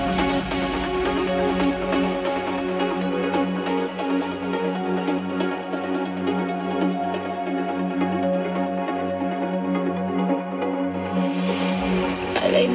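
The break section of a trance track plays loud and continuous, with a pulsing bass line that drops out near the end as a swell rises.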